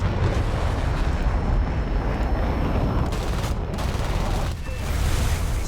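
Rapid, continuous bursts of heavy cannon fire from the four cannons of an HF-24 Marut in a video game roar without pause, dense and loud throughout, with a faint engine drone underneath.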